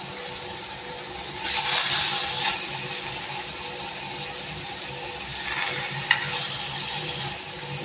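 Chicken seekh kebabs fry in a pan over a low flame, a soft steady sizzle with gentle scraping as they are turned, louder bursts of crackle coming and going, no voices.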